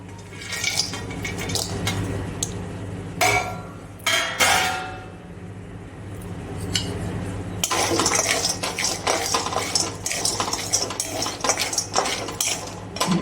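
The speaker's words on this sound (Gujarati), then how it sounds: "કાજુ થોડા ગરમ થાય એટલે આપણે પિસ્તા નાખીશું" Pistachios tipped into a pan of warming cashews on the stove: clattering, rattling nut sounds and scraping stirs, loud bursts early then a denser continuous rattle in the second half, with no talking.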